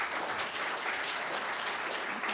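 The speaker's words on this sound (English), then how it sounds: "I'll give them all a round of applause." Conference audience applauding after a breakout session, a dense and steady wash of many hands clapping at once, loud and sustained with no gaps.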